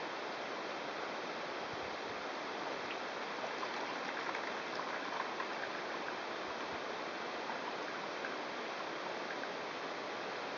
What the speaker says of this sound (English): dump out my water